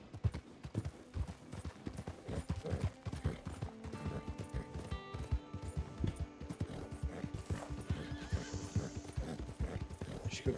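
Hooves clip-clop continuously from a horse in Red Dead Online, a dense uneven beat of steps with a short whinny partway through, over game ambience and faint mechanical clicks.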